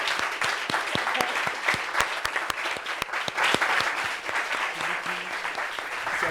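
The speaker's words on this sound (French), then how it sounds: "Applaudissements pour lui." An audience applauds a gospel artist guest with sustained, crisp clapping that has clear individual hand claps spread through it, and faint voices sit low beneath.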